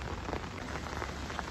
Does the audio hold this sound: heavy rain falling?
yes